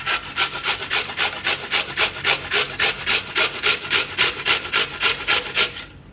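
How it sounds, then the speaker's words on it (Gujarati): Onion is rubbed quickly across a hand grater for bread pakoda, giving a steady, rhythmic rasp of about four strokes per second, close and loud, with no talking. "તો પહેલાં આપણે આ ડુંગળીને છીણી લેવું."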